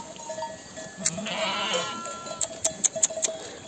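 A sheep bleats once, drawn-out and fairly close, on a hot highland summer pasture, followed by a string of light clinks and taps.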